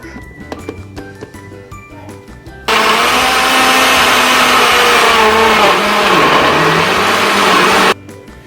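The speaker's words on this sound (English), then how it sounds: "today I'm adding some seeds to my smoothie, and it's the best way to eat them. So I'm going to blend this up" A countertop blender whirs a smoothie with added seeds, starting abruptly after a few light clinks, running loud and steady for about five seconds, its pitch sagging as the load thickens, then cutting off sharply.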